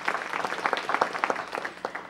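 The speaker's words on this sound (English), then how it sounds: "Everyone give her a round of applause for bringing her out tonight." Scattered, moderately close clapping from an audience at a city council meeting, a short burst of applause with uneven individual claps and no talk over it.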